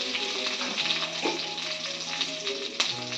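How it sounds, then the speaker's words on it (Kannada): Curry leaves sizzle and fry in hot oil in a pan, a steady close crackling hiss that runs throughout with a few brief bursts of spattering, no voices present. "ಕರಿಬೇವಿನಿಂದ ಚೆನ್ನಾಗಿ ಫ್ರೈ ಮಾಡ್ಕೋಬೇಕು"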